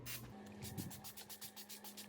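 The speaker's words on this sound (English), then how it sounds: "this is a really nice hydrating setting spray" A hydrating makeup setting spray is misted in a quick run of rapid, evenly spaced hissing pumps, close and fairly soft, over a faint steady background hum.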